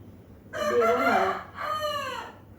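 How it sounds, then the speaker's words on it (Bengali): A rooster crows loudly nearby, a long drawn-out call followed by a second shorter trailing phrase, with no talking. "দেখো আমাদের ভবানী ডাকছে, মুরগির নাম ভবানী দিয়েছে।"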